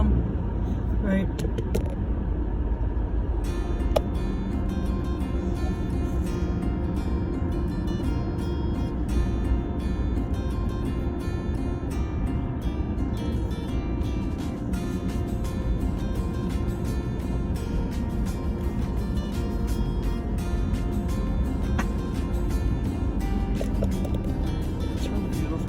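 A car drives around Lake Ripley with a steady, loud low road and engine rumble that holds throughout, people talking inside over it.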